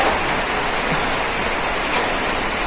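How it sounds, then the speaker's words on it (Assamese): Heavy rain pours down in a steady, dense hiss, constant and close throughout with no let-up. "বৰষুণ দি আছে পুৰা হৰাই আছে"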